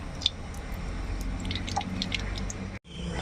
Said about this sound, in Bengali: কড়াইতে তেল দিয়ে নিচ্ছি।